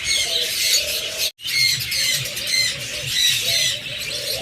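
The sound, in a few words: pet birds squawking, green split ino pair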